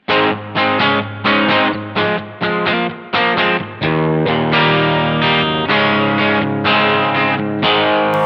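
Electric guitar chords strummed in short bursts, then held, played through a Mosky Classic M Shall amp simulator pedal with a bright, lightly driven tone and reverb from a Line 6 M5; loud and close, no voices.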